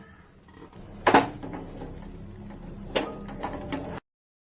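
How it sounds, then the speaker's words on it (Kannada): A few metal-on-pot scrapes and clinks as cooked rice and dal are stirred into tempering in a pan for khara pongal, one sharp burst then quieter scraping, with no talking. "ಈ ಒಗ್ಗರಣೆಗೆ ನಾವು ಬೇಯಿಸಿಟ್ಟಿದ್ದಂತ ಅನ್ನ ಮತ್ತೆ ಬೇಳೆನ ಮಿಕ್ಸ್ ಮಾಡೋಣ"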